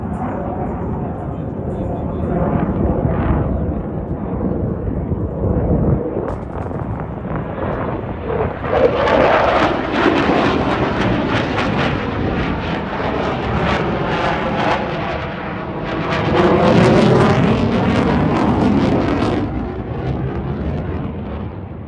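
An F-16 Fighting Falcon fighter jet performs an air show display, its engine roaring loudly and steadily with buffeting wind noise, swelling in waves as it passes close overhead.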